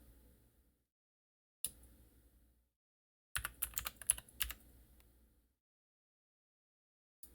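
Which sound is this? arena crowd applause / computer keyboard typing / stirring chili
computer keyboard typing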